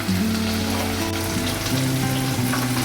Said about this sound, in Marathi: कोथिंबीर यामध्येच परतून घ्यायची आहे